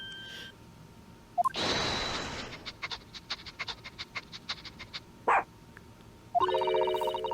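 A dog in the Great Ace Attorney video game gives a burst of sniffing followed by a rapid, rhythmic run of short pants, with game chimes and interface blips before and after.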